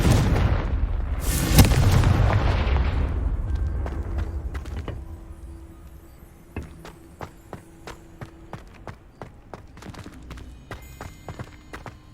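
A Confringo spell blast in Hogwarts Legacy goes off as a loud booming burst that rumbles and fades over several seconds. Scattered footstep-like clicks and knocks follow.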